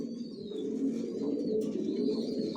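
Johnson line racing pigeons cooing nearby, soft low continuous coos overlapping at a steady level, with thin chirps from other birds above them.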